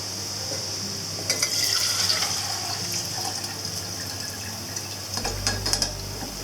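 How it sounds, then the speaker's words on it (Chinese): Small silver whitebait fry in hot oil in a wok with a faint, steady bubbling sizzle and a few brief clinks of utensils. "当看见气泡逐渐减少，闻到银鱼仔从油炸锅里散发的鱼香味"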